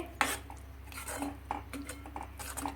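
A spoon stirs crushed gathiya into a whole-onion curry in a pan, giving soft scraping and clinking taps against the metal at an uneven pace, close and quiet, with no talk.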